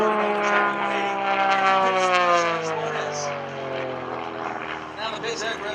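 A Pitts Special aerobatic biplane's propeller engine drones loudly at an airshow, its harmonic buzz sliding steadily lower in pitch as it sweeps past, continuous throughout.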